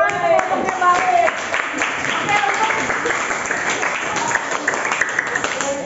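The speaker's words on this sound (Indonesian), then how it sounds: "berikan tepuk tangan kelompoknya Balkis." Students in a classroom clap for a group, a lively uneven round of clapping mixed with children's voices and chatter.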